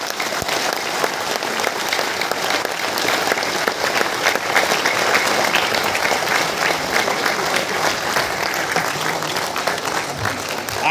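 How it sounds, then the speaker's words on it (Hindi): A large audience claps loudly and continuously, a thick, sustained roar of many hands beating at once that stays at a full, even level from start to finish with no voices on top. "तो एक बार आप खुद के लिए जोरदार ताली हो जाए।"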